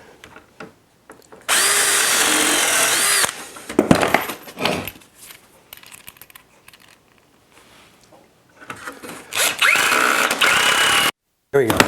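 Power drill driving screws to fasten a wooden deck baluster: two loud, sustained whirring bursts with quieter handling noises and short drill blips in between.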